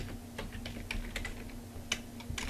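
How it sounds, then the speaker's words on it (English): Search terms typed on a computer keyboard come through as a quick run of close, light key clicks with brief pauses between them, and no one speaks over them. "So I would type in reading"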